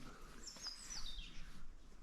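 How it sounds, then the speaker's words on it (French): A thrush calls near a woodland pigeon-hunting hide, a few thin, high chirping notes, faint and slightly distant over a low outdoor hum. "Grive."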